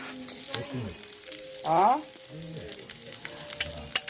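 Kebabs frying in a pan give a steady close sizzle, with a louder burst of spitting midway and faint voices now and then.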